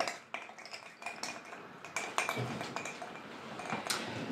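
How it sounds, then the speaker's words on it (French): Ice rattles and clinks in a glass as a Jack Daniel's Christmas cocktail is stirred, a continuous run of quick close taps and jingles with brief louder knocks. "On touille."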